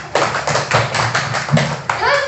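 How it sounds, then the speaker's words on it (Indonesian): Close, loud rhythmic clapping from a classroom group in a steady beat, with a voice rising briefly at the end. "Tepuk tangan untuk kelompok 1"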